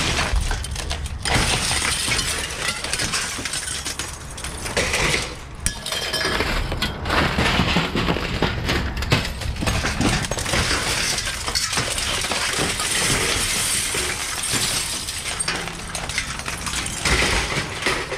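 Broken glass shatters, crunches and clinks continuously while someone rummages through a dumpster, a dense, loud clatter of shards shifting and scraping throughout.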